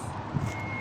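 A bus reversing, its warning beeper sounding as a thin, steady tone over a low engine rumble in a short, close burst.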